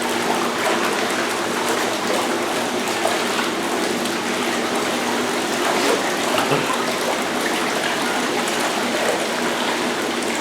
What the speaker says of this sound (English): You just mostly hear the water currents and like a gentle hum from the pump.